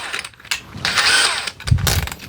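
Power drill with a 29/64-inch cobalt steel bit meant for thick steel, run briefly in a box van build, giving a short whirring burst that rises and falls, with no talk over it.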